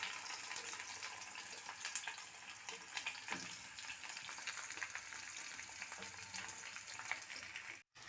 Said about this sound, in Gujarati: ભીંડાને ફ્રાય કરી નાખશું